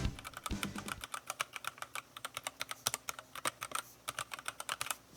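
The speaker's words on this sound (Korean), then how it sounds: "적축의 소리입니다." Someone types quickly and evenly on a Keychron K6 mechanical keyboard fitted with red linear switches, producing a close, dense run of soft, muted keystrokes with no talking.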